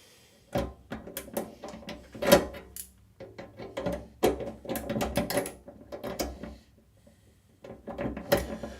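Small metallic clicks, scrapes and rattles as a screw is fitted into a screw hole on an IBM PC XT, coming in irregular close bursts with short quiet gaps between them.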